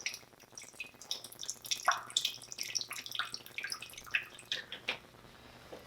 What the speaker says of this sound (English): So we're going to take some balsamic, pour it on in a mug.